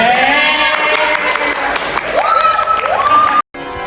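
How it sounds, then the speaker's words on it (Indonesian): A crowd applauds at a school student council (OSIS) gathering, a dense wash of clapping mixed with rising tonal sound effects, which stops abruptly near the end before resuming faintly. "Tepuk tangan."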